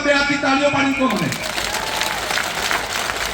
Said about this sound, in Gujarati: 2 હાથથી તાળીઓ પાડી કહો મને